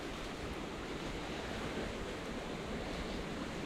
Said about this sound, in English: We have rapids.